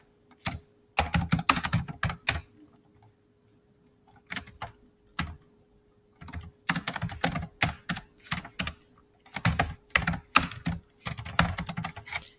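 Typing on a computer keyboard while entering student names into a class roster: bursts of quick, close key clicks separated by short pauses, with no talking.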